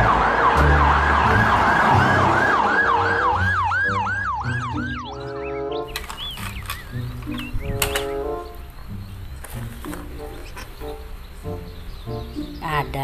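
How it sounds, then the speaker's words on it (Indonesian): A toy ambulance siren wails loud and close in rapid rising-and-falling sweeps for several seconds, then gives way to clicking, rattling toy mechanisms and faint voices. "Wow, ada mobil ambulan."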